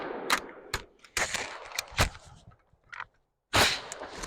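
AR-15 rifle being loaded: a close series of sharp metallic clicks and clacks from magazine and action handling, irregular and crisp, with a brief quiet gap before a final louder clack.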